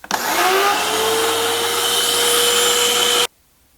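Sun Joe electric pressure washer fitted with an OE spray gun and a long Cobra Jet hose, running in one loud, steady whining drone for about three seconds before cutting off abruptly to silence.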